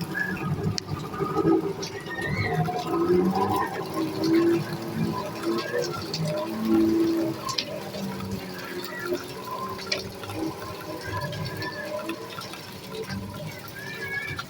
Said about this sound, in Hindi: सारा ये गटर वाला पानी हमारे घर के अंदर आ रहा है।